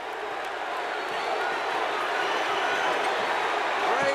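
A packed arena crowd roars steadily during a 1984 NBA playoff game between the New York Knicks and Detroit Pistons, with a constant swelling din under an announcer's voice.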